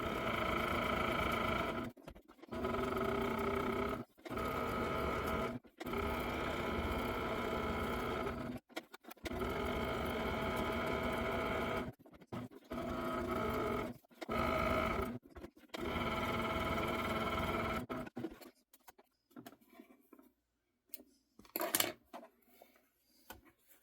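A sewing machine stitches an appliqué block for a quilt in fast repeated bursts of steady mechanical whirring. Each run lasts a few seconds and is split by short pauses, and the machine falls quiet toward the end.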